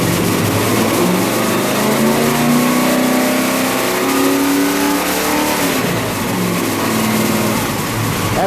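An engine fitted with a 602 advance lock-out kit revving up to 4,000 RPM, a loud, sustained mid-pitched roar with the pitch climbing and holding high, close and continuous.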